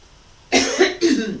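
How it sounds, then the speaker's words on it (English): Someone nearby clears their throat in two quick, rough bursts after a moment of quiet. "clearing my throat this morning seems to be a problem again."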